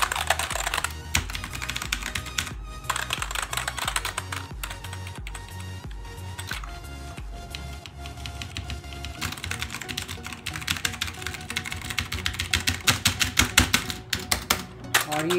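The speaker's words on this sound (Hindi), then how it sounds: "सो अभी ये कीबोर्ड में आप सुन ही पा रहे हो" Rapid, steady typing on an EvoFox Fireblade gaming keyboard, with dense, loud clacking keystrokes running continuously and close up, and no talking.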